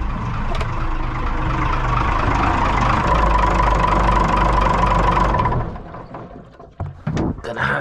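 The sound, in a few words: boat engine running after starting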